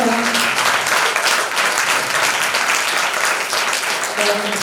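A church congregation at a women's spiritual gathering claps hard, a dense steady wall of hands sustained loudly all the way through with no break.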